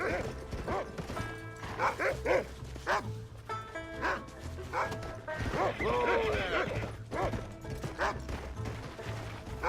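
A dog barks repeatedly in Red Dead Redemption, several sharp woofs in bursts mixed with hoof clops, game sounds and someone talking over the action.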